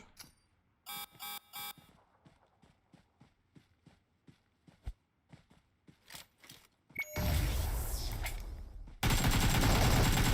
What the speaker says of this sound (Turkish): AK ile vurmam lazım